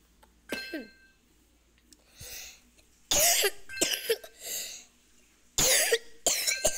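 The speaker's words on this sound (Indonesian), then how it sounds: "Kalau aku batuk ya mohon maaf." Several separate coughing bursts from one person, close and fairly loud, spaced irregularly with short quiet gaps between them, one or two sounding like throat clearing.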